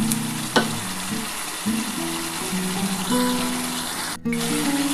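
Duck egg curry masala frying in a pan, a steady close sizzle with stirring scrapes and a few clanks throughout, with a brief dropout near the end.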